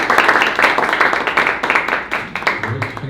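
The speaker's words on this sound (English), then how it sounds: "So a warm round of applause for Filip." Applause for a conference speaker introduced before a talk on a distributed systems evaluation framework, a steady dense patter of clapping from the audience lasting throughout, loud and close.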